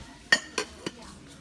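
Dishes and plates clink together in a store, three light taps in quick succession with fading ringing, close and brief.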